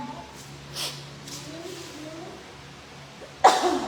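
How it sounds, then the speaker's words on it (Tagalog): A single sharp, explosive cough bursts out near the end, loud and close, after a stretch of quiet room noise. "Nag-ubo."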